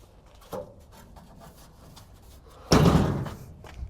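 A car door on a 1971 Triumph TR6 under body repair shuts with a single loud, close thud about two-thirds of the way through, after a lighter knock and quiet handling noises earlier.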